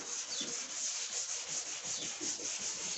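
Sandpaper scrubbing a dented, filler-patched car body panel during bodywork repair, a continuous close, steady rasping rub with rhythmic strokes and no pauses.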